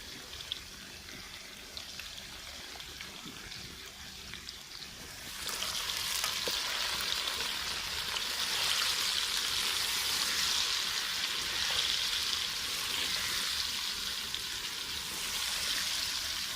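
Amla pickle cooks in a pan while a spoon stirs it, first with a quieter bubbling sizzle, then a louder, brighter steady hiss that holds to the end, close and with no talk.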